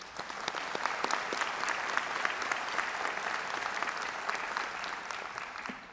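Crowd applause at a university spring convocation, many hands clapping in a sustained even roar with crisp individual claps popping out, moderately distant and steady for the whole stretch.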